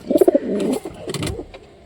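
Pigeons coo at their nest where eggs are being tended, a few close, throaty coos coming in a quick cluster at the start, then softer rustling and fainter calls.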